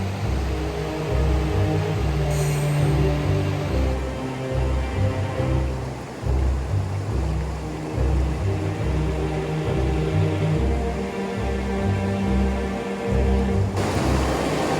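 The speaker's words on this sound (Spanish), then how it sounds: "El río tiene mucha fuerza, pero se puede cruzar." A powerful, fast-flowing mountain river in the Caucasus roars steadily and loudly at close range, a dense rushing wash of water that holds constant throughout with no voices.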